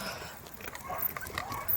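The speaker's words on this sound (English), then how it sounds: "there goes the dog. Barking away." A dog barks outdoors at a distance, its short, faint barks repeating over a busy, noisy background.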